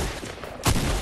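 Burst of SCAR rifle gunfire in a video game, a sharp loud blast near the end of the brief moment, rising over a quieter background of game noise.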